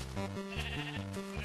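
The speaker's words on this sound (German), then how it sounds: "Noch mehr Schafe." Repeated sheep bleats from Minecraft, several voiced calls following one another in steady succession, clear and close with no talking.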